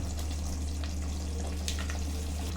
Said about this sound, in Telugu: మసాలా బాగా పచ్చి లేకుండా బాగా ఇట్లా వేయించుకోవాలి